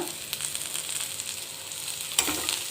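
Dry red chillies fry in hot oil with a close, steady crackling sizzle, a few light stirring clicks, and a sharper burst of spitting near the end.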